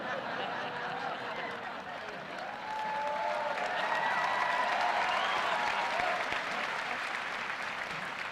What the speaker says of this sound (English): you're applauding too much now